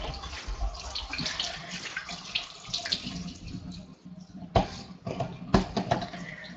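Water runs steadily from a tap while hands are wetted under it before soaping, a close hissing flow broken by a few sharper splashes as the hands move through the stream.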